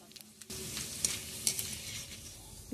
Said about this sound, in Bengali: এবারে আমি চিপসগুলোকে ভেজে নেব।